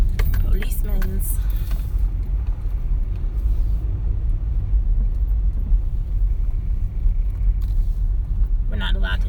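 Car driving on a road in Georgia, a steady low rumble of engine and tires from inside the cabin, with a voice speaking briefly at the start and again at the end.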